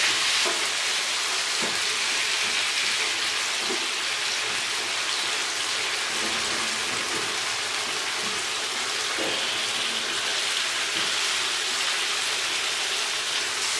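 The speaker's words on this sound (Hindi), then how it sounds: "अब हमने चिकन की भुनाई कर लेनी है" Chicken pieces fry on a tawa in a steady, loud sizzle that runs unbroken throughout, with occasional soft scraping knocks from stirring.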